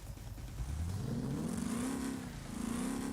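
A V8 car engine in BeamNG.Drive fitted with a drag performance V8 radiator revs up steadily, its pitch climbing over a few seconds as it accelerates, loud and close with a whirring mechanical edge and no talking.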